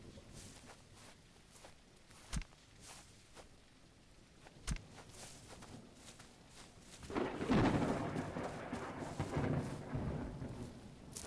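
Thunderstorm in the video game A Witch of Fern Island: soft steady rain with two sharp thunder cracks early on, then a louder rolling rumble swelling in the second half, with no voices.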